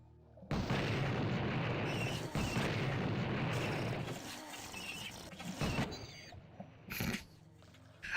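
A spider enemy blows up in the first-person shooter Blood: a loud, sustained explosive roar that begins near the start, fades, then returns as a few smaller bursts toward the end.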